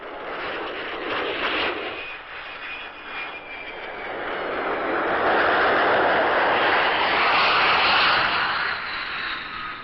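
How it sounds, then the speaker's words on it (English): F-100 jet fighters fly back toward an air base after strikes during a military exercise, producing a loud, steady engine roar that swells as they pass, with no voices. "After the strikes, the planes returned to Volley-ball Air Base."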